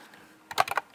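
A short burst of typing on a computer keyboard, about five or six quick, close key clicks that stop within half a second in a quiet room.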